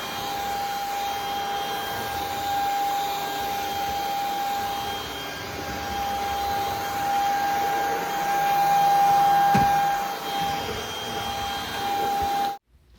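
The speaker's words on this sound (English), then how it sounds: "I'm gonna vacuum and then I'm gonna charge my vacuum" A cordless vacuum cleaner runs steadily with a constant high whine and motor hum, close by, then switches off abruptly at the end.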